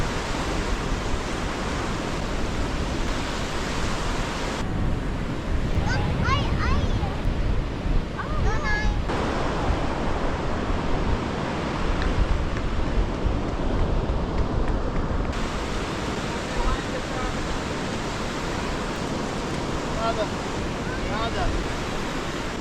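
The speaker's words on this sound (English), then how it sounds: "I feel like I'm getting tricked by the waves a little bit." Ocean waves break and wash continuously on a beach, a broad steady roar mixed with wind buffeting the microphone, with faint voices now and then.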